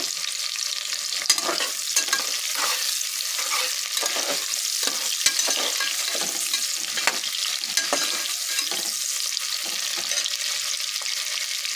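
Cumin seeds fry steadily in hot oil for mutton biryani, a dense continuous crackling sizzle with small pops throughout, close and loud with no voices.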